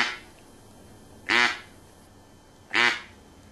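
A Louisiana-style double reed duck call blows two short, sharp single quacks about a second and a half apart, loud and close against a quiet background.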